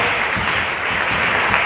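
A church congregation applauding, a dense continuous clapping from many hands filling the room, steady and loud for under two seconds.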